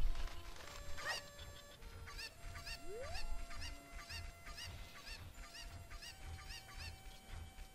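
Cuccos, the chickens of Zelda: Ocarina of Time, cluck and squawk repeatedly in a busy chorus of short calls, with a rising game sound effect midway and a steady background beneath.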